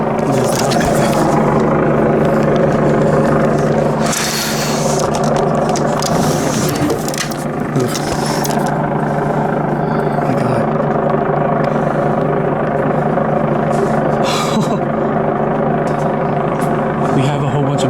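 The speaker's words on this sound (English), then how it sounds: "There's the helicopter." Police helicopter passing low over a residential backyard during an arrest, its rotor and engine droning steadily throughout, with excited voices talking over the noise.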